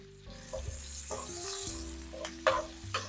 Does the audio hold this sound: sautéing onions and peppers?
yes